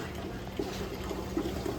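A Bunn coffee maker with a no-water fault meters water in a faint, steady trickle and pour, with a few soft gurgles in a quiet room and no speech.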